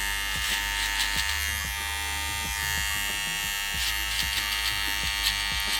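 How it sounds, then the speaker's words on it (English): Electric hair clippers buzz steadily and close up while cutting a skin fade below the baseline, with a continuous motor drone broken by light rhythmic strokes. "you're going just below the baseline set with the big clippers"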